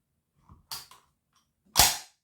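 Chinese SKS rifle bolt being cocked after reassembly, a few sharp metallic clacks ending in one loud snapping slam, close up with no talk.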